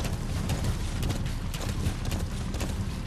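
A horse galloping in the video game Metal Gear Solid V: The Phantom Pain, a steady, dense drumming of hooves running continuously and loudly, mixed with rushing wind-like noise.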